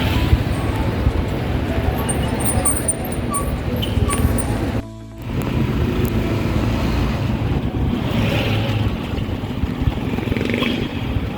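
Motorcycle ride away from a terminal in Lipa City, Batangas, carrying passengers alongside a tricycle: a continuous close engine drone with heavy wind rush over the microphone, briefly cutting out midway before resuming.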